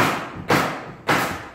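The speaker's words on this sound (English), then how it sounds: "they're still doing construction on the bar, so if you hear a lot of noise" Two heavy thuds from bar construction land about half a second apart, each followed by a decaying rumble, loud and close with no voices.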